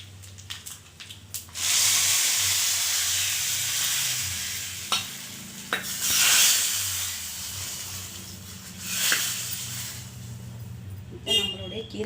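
Mustard seeds and urad dal sizzle and crackle in hot oil for a spinach keerai masiyal, with bursts of frying hiss that swell and fade in waves and a few stirring clinks near the end.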